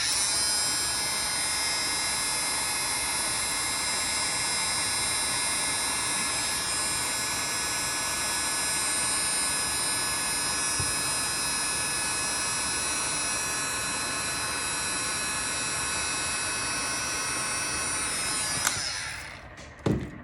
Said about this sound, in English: I use my heat gun just to warm up a little, and that will help me pull that tape off without messing up anything else